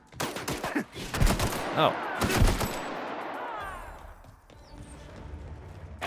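Video game gunfire from The Outer Worlds rings out as rapid bursts of shots in the first half and then gives way to quieter ambience, with a brief voiced exclamation.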